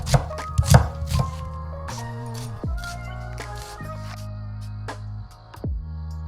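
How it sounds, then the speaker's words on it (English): A knife cuts vegetables into pieces on a board while preparing kimchi pancake, crisp close chopping strokes in quick irregular bursts with ringing overtones between cuts. "I'm just gonna cut this into like 2-inch pieces"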